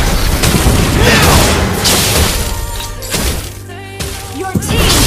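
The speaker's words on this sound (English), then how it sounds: "Your team destroyed the turret!" A turret crumbling in the Mobile Legends game, a loud burst of booming, crashing impacts with shattering debris, dense and sustained, with a brief lull and a final thud near the end.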